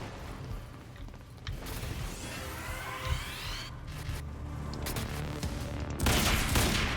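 Rapid bursts of gunfire from a weapon in the Quantum Break video game, with sharp repeated shots, mechanical clatter and booming impacts layered over game background noise.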